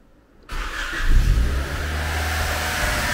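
A Honda Civic EJ1 on stock injectors, with no remap, starts up with a sudden burst after a short silence, gives a brief rev, then settles into a steady, fairly loud idle close by.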